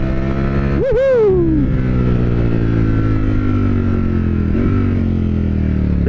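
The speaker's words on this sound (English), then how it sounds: "I just spun up the rear wheel." Ducati Streetfighter V4S motorcycle engine revving hard as the rear wheel spins up, a loud sharp rise in pitch early on followed by a steady high-revving drone that eases down, close and continuous.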